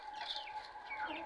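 Large young chickens grown from chicks cluck and chatter close by in a backyard flock, with soft overlapping calls filling the short stretch and no talk.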